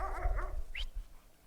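Dogs at play in a K9 daycare give a few quick, fairly quiet barks and a short high yip, heard close together over about a second.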